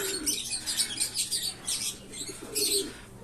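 Birds cooing and chirping with soft bursts of wing flutter, several flurries rising and falling over a steady outdoor background.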